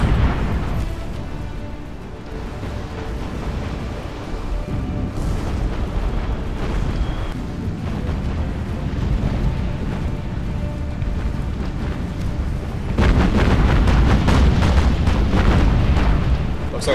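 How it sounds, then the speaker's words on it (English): Torpedoes striking and exploding against a ship in the naval combat game Battlestations: Pacific, a loud, continuous roar of rumbling blasts and booms that swells even heavier toward the end. "Looks like some of my torpedoes actually hit."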